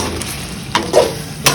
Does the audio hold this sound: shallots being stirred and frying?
yes